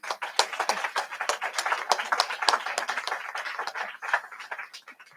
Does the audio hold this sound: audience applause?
yes